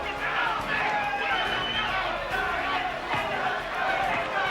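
A boxing arena crowd roars in steady, loud support, with dense overlapping cheering and chatter filling the space throughout as a commentator talks over it.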